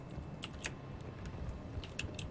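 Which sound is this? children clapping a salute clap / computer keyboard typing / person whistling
computer keyboard typing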